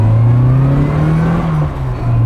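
Austin Mini Cooper S engine accelerating, a loud close steady drone with a strong rising and falling engine tone heard from inside the car, no talk.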